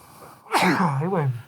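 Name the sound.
sneeze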